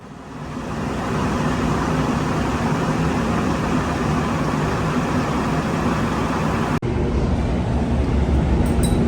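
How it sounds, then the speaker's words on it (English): A grain elevator auger at a mill carries wheat up into the top of a giant grain bin, a loud continuous mechanical roar and rushing hiss that holds steady, broken by one brief dropout near the end. "that augers it up into the top of this giant grain bin that you see there on the right"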